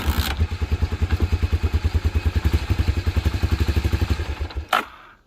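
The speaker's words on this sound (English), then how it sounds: "Right when I want to give it throttle, it's wanting to die." A Honda TRX250 Fourtrax ATV engine, long abandoned, idles roughly in a rapid, uneven chugging that sags and nearly stalls, loud and close, ending with a sharp clunk as it dies away.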